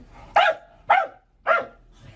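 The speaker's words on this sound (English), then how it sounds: "Oh, you want to bark in my ear?" A dog gives three loud, close barks at an even pace about half a second apart, with brief quiet gaps between them and no one talking.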